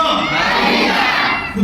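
A church congregation shouts hallelujah together, one loud, sustained roar of many voices lasting over a second before tapering off.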